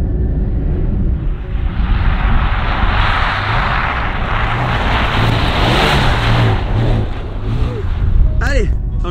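A Porsche drifts with its engine revving hard, a loud, sustained roar mixed with tyre noise that holds for several seconds and ends with a rising whine.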